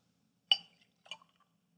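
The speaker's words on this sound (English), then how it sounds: "What I'd like to do is ladle some into a glass." Mulled wine with spices ladled into a glass: two short, crisp clinks of the ladle against glass with a faint liquid splash, close and quiet, with no talk.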